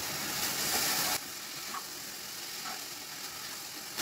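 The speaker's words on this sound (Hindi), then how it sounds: "उसको भी थोड़ा हिला लेंगे ताकि ये नीचे जल ना जाए इसे चलाते ही रहना है" Milk for rabri, part of a coconut and rabri sweet, cooks in a pan while being stirred, giving a continuous close hiss and sizzle that drops slightly in level after a second and carries on steadily.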